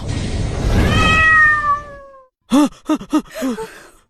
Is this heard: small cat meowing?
yes